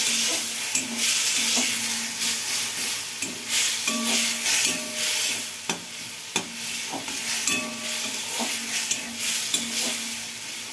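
Bean seed curry sautéing with turmeric and water in a pan, a continuous sizzling hiss punctuated by repeated scraping and clinking stirs of a spatula, close and steady throughout.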